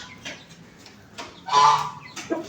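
Chickens kept in a cage alongside ducks give scattered clucks, a few short bursts close by with one louder squawk in the middle, no talking.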